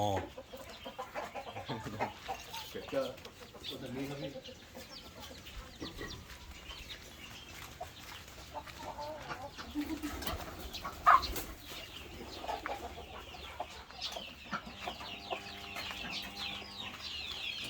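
Fighting roosters on a small Thai farm raising laying hens and ducks, clucking and calling faintly at a distance, with occasional wing flaps and soft voices in the background.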